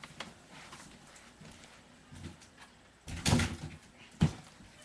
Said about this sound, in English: Hold on, I'm going to close the door.